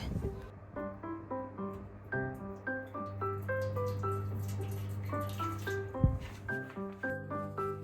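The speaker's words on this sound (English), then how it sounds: "Pouring hot water into this roasting pan." Hot water poured into a roasting pan to make a bain-marie water bath for a Japanese soufflé cheesecake, a steady close watery pour with a low hum underneath and a brief clunk near the end.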